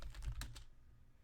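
Quick clicks from a computer keyboard, three or four keystrokes in a fast burst, then quiet, fairly close but faint, with no talking.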